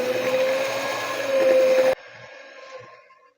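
A mixer whirs steadily through biscuit batter with sugar and desiccated coconut, a loud, even motor drone with a tonal hum that cuts off abruptly partway, leaving a faint clattering tail.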